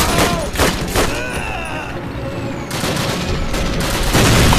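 Short bursts of gunfire from a World War II weapon in Call of Duty: United Offensive street fighting, loud and close, rapid rattling volleys separated by brief pauses, with faint whistling and echoing battle noise between them.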